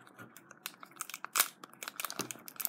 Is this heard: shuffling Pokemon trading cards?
yes